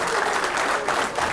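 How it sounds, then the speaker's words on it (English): A crowd at the 2008 US Open 9-Ball pool championship breaks into steady, full applause after a shot, close and continuous throughout. "And listen to the crowd."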